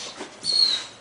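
A dog lets out a short, high-pitched whimper, thin and whining, close by and brief.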